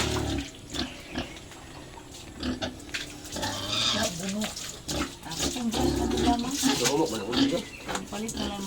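Farm pigs grunt and squeal at feeding time, close and busy, mixed with running water splashing from a tap or hose while someone talks over the noise.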